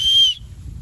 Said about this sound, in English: I think it has a whistle.